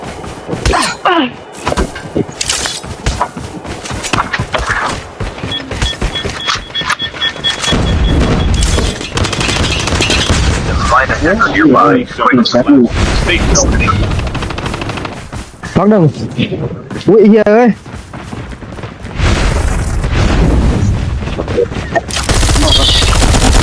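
Call of Duty multiplayer firefight: rapid automatic gunfire bursts and single shots crackle loudly throughout, with booming impacts and brief voices mixed in.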